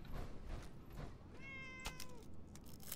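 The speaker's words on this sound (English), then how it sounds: "I think that's a cat I'm hearing." A cat in the Fallout 76 video game lets out a single drawn-out meow, faint and mid-distance over a steady ambient background hum.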